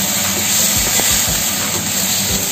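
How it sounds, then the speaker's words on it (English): Diced garlic sizzling in hot oil while stir-fried for a salmon tail dish, a steady loud hiss with a few low scraping knocks from the utensil, no talking. "we pour in our diced garlic. Because the brown is already developed, so we have to stir fry."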